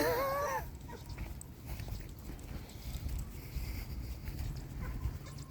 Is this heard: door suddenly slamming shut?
no